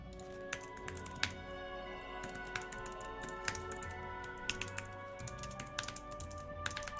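Steady typing on a computer keyboard while coding in C# in Unity, a quiet stream of close key clicks with irregular bursts and a few louder taps over faint background hum, no talking.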